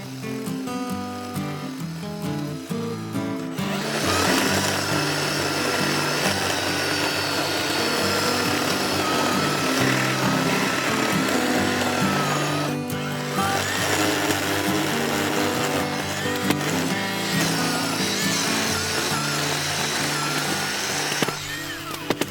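A close, loud 40V Black and Decker cordless electric chainsaw whines steadily as it cuts through fallen trees on a trail, briefly dropping off near the middle before cutting again for a long stretch.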